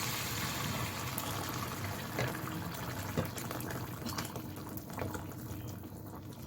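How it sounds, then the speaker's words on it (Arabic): Water pours steadily into a beef tagine pot cooking with green onion and red pepper, a soft, continuous splashing wash that stays even and fairly quiet throughout. "دابا غادي نزيدو الماء"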